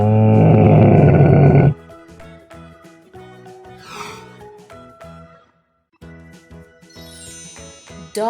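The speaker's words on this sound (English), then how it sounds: "camel," A camel lets out a loud, rough, throaty grunting roar for about a second and a half, then it cuts off and light jingly children's music continues alone.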